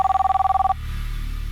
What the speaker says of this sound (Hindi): कदम सर, आपका फोन है।